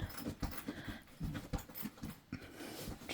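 A dog shuffles and scratches in its bed close by while trying to make a nest, irregular soft thumps and rustles over about three seconds.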